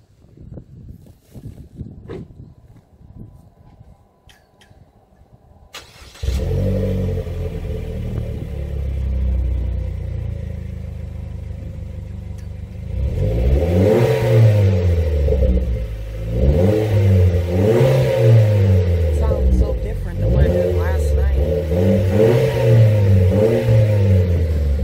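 A Chevy Cruze fitted with a Flowmaster Force II catback exhaust starts up after a few seconds of quiet, settles into a steady idle, then revs repeatedly in rising and falling sweeps, loud and close.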